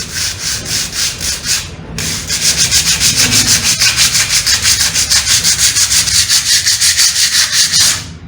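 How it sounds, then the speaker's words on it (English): Rhythmic back-and-forth scratching of sandpaper rubbing on a surface, with steady rapid strokes that pause briefly before continuing. "I want to divide my sandpaper into smaller pieces because what I'm sanding down is not so much"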